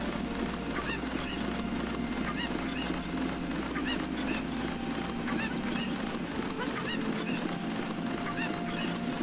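Cucco chickens in The Legend of Zelda: Ocarina of Time, repeated short honking clucks in a steady rhythm over a constant game music bed, fairly loud throughout.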